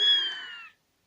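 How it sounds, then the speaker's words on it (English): A single kitten's meow, high and tonal, close and fairly loud, trailing off after under a second and followed by silence. "Yes, Shadow's had kittens"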